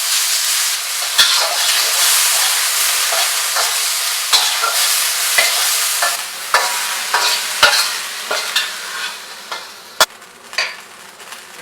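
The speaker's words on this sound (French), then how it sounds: "Là on va juste venir le saisir un peu." An ingredient for Thai yellow curry seared in a hot pan, giving a loud, steady sizzle and hiss, nearby, broken by occasional sharp clacks of a utensil against the pan, growing sparser toward the end, with no voices.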